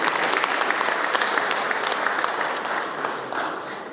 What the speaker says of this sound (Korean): 큰 박수 한번 해주십시오